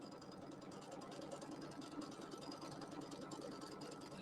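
A home embroidery machine stitches a fabric placement line on light pink polka-dot background fabric, a rapid, even mechanical whirring clatter running steadily throughout.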